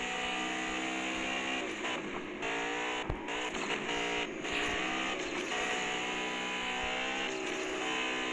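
A race car in the Asphalt 8 video game, the loud, continuous engine whine of the game's audio with brief gear-shift dips and rising revs across the run.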